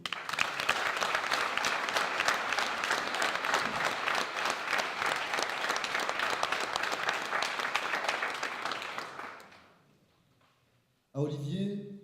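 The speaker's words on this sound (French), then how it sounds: "je vous demande d'applaudir sur scène Monsieur Olivier Sobry." Audience applause at a conference as a speaker is called on stage, sustained dense clapping for about nine seconds, then dying away to near silence before a voice begins.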